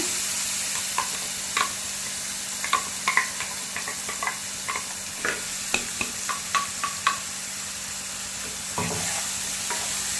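Onion paste hits hot oil with browned cumin for a spiced okra gravy, a steady sizzle broken by irregular scraping and clicking of a spoon stirring the pan, close by and with no talk.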